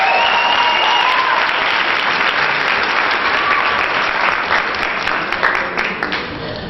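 An audience at a local singing competition in Paterson claps loudly and continuously, a dense crowd applause that holds steady and then begins to thin and fade near the end.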